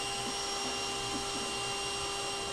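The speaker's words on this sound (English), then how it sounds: "So I'm just trying to get vacuum some of these bees off, get the population down a bit" A vacuum running steadily and loudly close by as it sucks bees off a laundry room ceiling during a colony removal, a constant whine with no gaps and no talk.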